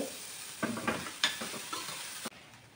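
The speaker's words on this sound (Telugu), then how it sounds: "ఇది కొంతసేపు నేతిలో వేయించి తర్వాత పాలు పోసేస్తాం" Grated carrot sizzles in ghee for carrot halwa while a spoon stirs it, giving a soft steady fry broken by several scraping stirs and a knock against the pan, close and with no voices.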